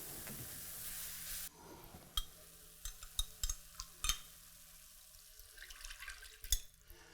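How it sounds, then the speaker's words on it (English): Chicken broth poured into a hot pan, heard first as a loud rushing splash, then settling into a soft simmer broken by scattered clicks and knocks of a utensil against the pan, with no talking. "we added a couple of cups of, in this case, chicken broth we were using to kind of thin this out"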